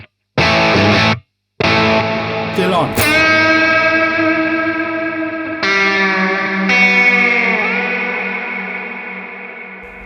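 An electric guitar runs through a Hotone Ampero Stage II pedalboard with distortion and a trail effect. Loud chords ring out and decay into echoing tails. A brief spoken remark comes in between.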